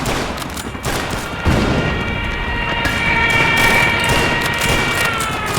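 Stuka dive bombers attacking during a Volga River crossing battle in a video game, a loud dense barrage of booms and rattling gunfire with a high wailing siren-like tone running through.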